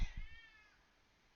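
A single cat gives a short, close meow that trails off quickly into quiet.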